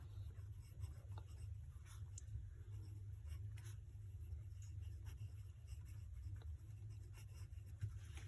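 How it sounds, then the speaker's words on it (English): Pen or marker strokes while writing labels on a joint bar graph for a class 7 maths lesson, faint scratchy taps and short strokes over a steady low hum. "So let me write here"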